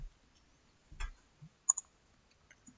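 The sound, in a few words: mouse click on Save and Continue button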